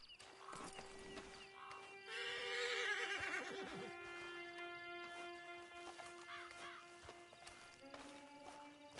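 A horse whinnies in the video game Red Dead Redemption 2, a drawn-out, wavering neigh mid-clip over quiet ambient tones, with faint hoof clops and other brief calls around it.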